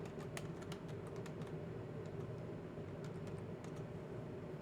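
Computer keyboard typing of a Linux mkdir command, a quick run of light close key clicks over a low steady room hum, no talking.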